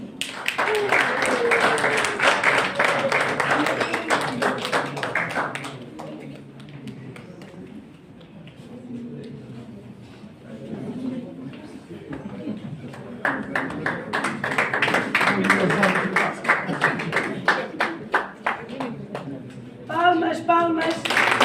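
Applause at a journalism diploma ceremony, bursts of brisk hand clapping from a gathered crowd with quieter stretches in between, voices talking over and between the claps.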